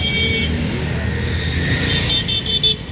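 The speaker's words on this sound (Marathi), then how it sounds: "असं ट्रॅफिक असतो इथे।" Night road traffic in the Paldi area of Ahmedabad: a steady, dense roar of cars and motorbikes passing close by, with several short horn toots cutting through near the end.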